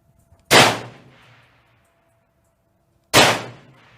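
A Ruger American rifle fires two sharp, loud shots at targets about two and a half seconds apart, each a hard crack with a short decaying echo, with near silence between.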